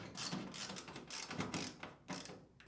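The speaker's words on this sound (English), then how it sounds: "Next, reinstall the 4 screws." Screws going back into the back panel of an LG washer, heard as a few close, short bursts of ratcheting, clicking driver turns.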